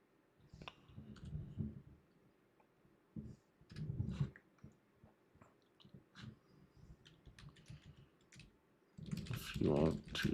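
Someone types on a computer keyboard in quiet bursts of soft clicks and taps, scattered irregularly between pauses during a live day-trading session, with low murmurs and mouth noises mixed in.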